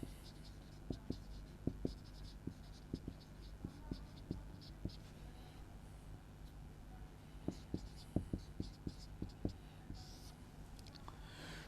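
A pen scratches on paper during a Class VIII math lesson, with irregular soft clicks and strokes in short bursts over a quiet room hum and faint insect-like background noise.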